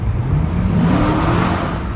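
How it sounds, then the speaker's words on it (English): A Dodge Charger R/T engine droning loudly inside a tunnel, with a deep, steady roar and a slight rising pull, the rumble filling the space with dense reverberant noise. "See if we can hear my car in the tunnel"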